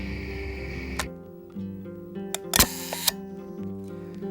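A camera shutter fires a few times close up, sharp mechanical clicks with one louder burst in the middle, as a caught flathead catfish is photographed outdoors.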